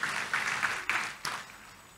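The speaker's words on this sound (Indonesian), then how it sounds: "Tepuk tangan yang meriah buat Tuhan Yesus." A church congregation claps together in brief, fairly faint bursts of applause that swell and fade quickly, without voices.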